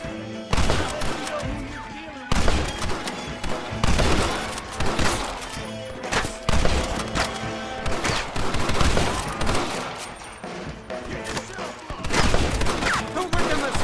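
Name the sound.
gunfire in the video game Red Dead Redemption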